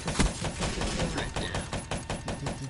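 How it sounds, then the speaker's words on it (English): Heavy machine gun fire in a PS4 video game: a rapid, steady stream of loud, close shots hammering continuously without a break. "you like the sound of the heavy machine gun going off?"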